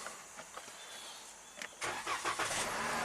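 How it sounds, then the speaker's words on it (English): A 2017 Chrysler Pacifica's Pentastar V6, just back from a head gasket job, cranks briefly and then fires up into a steady, close idle. A few faint clicks come before the start, and no one speaks. "Okay, fires up better."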